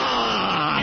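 A man gives an exaggerated imitation of a yawn, one long, loud, strained drawn-out groan with no words.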